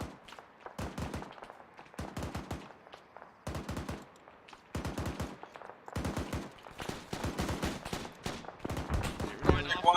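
A Mark 19 grenade launcher fires in loud, rapid bursts separated by short pauses during Marine fireteam training, each salvo a tight string of heavy thumps close to the recorder.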